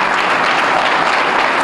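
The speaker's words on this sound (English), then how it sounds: "I think we should all give him a round of applause" Loud, close applause from an audience at an awards ceremony, a dense and even burst of clapping throughout.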